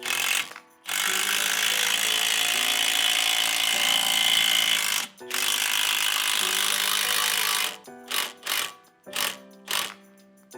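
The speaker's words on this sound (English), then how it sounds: "I got my energy suspension trailing arm bushing pressed in." Ratcheting clicks from a press tool drive an Energy Suspension polyurethane trailing arm bushing into the rear trailing arm of an EG Honda Civic: long continuous ratcheting runs, then several short bursts, close and alone.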